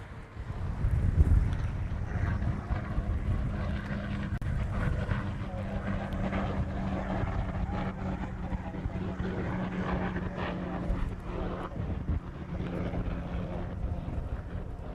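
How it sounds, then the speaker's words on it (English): A Hawaiian Airlines airliner rolls for takeoff at Honolulu airport, a steady broad jet roar with a low hum holding for the whole stretch, buffeted by wind noise on the microphone. "that Hawaiian Flight 6 is rolling."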